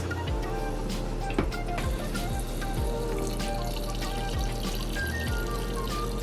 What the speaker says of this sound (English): I'm gonna go ahead and continue to fill up my containers